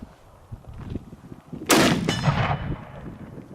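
Single loud crack of a .300 Win Mag Accuracy International Mk13 sniper rifle fired outdoors, a sharp report followed by a rolling echo that decays over about a second, with faint background noise before it.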